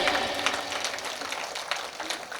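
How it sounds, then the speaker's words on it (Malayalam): Sustained applause from the audience at a school anniversary celebration in Kannur, a steady wash of many hands clapping with no break across the whole stretch. "നിറഞ്ഞ കയ്യടി"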